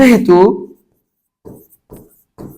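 Chalk or marker writing on a classroom board during a Class 5 fractions lesson: a voice speaks first, then three short scratchy strokes follow at a steady pace, close and moderately loud.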